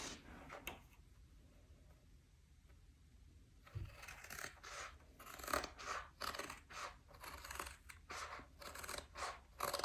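Scissors cutting through a diamond painting canvas at a desk, a series of crisp, close snips and crunching cuts in a steady rhythm, faint and alone.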